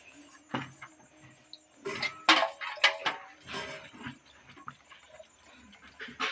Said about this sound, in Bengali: এবার এই উচ্চগুলো জলে ভালো করে ধুয়ে নেবো